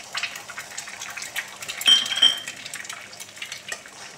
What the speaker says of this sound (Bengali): ডিমগুলো বেশ নাড়তে চাড়তে যখন ঘন হয়ে যাবে তখন বেগুনের সাথে মিশিয়ে নিতে হবে